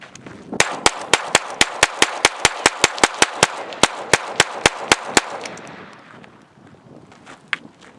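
Smith & Wesson .22 target pistols fired outdoors in a quick rapid string of about twenty sharp, evenly paced cracks close to the microphone, followed by wind noise and one last distant shot.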